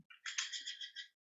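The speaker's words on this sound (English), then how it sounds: "there's some birds outside" Birds chirping outside, a single quick burst of bright, rapid tweets lasting about a second, distant and fairly faint against silence.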